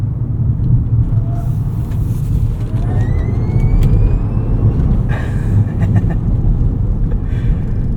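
A 2025 Rivian R1S electric SUV drives in sport mode, giving a steady, loud low road and tire rumble with wind noise and a faint rising electric-motor whine.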